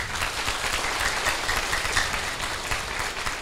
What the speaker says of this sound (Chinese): 热烈的掌声再次欢迎。